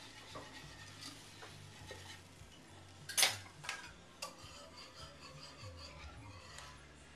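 A spoon stirs a tetrazzini mixture in a pan, giving faint scraping and tapping strokes at an irregular pace, with one sharper clink near the middle and no speech.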